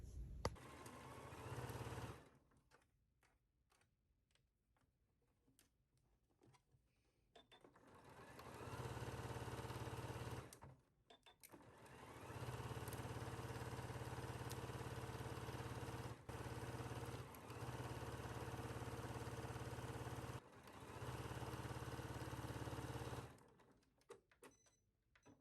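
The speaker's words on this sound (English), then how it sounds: "take this to your machine and sew it at 5/8" Sewing machine stitching a 5/8-inch seam on a caftan, bursts of fast rhythmic motor-driven stitching separated by short pauses, close and steady, no talking.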